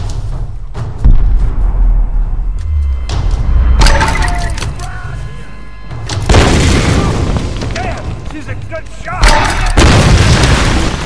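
Booming explosions and gunfire in the 2013 Tomb Raider video game, heavy thuds landing in several bursts over a constant loud battle din, with a voice talking throughout.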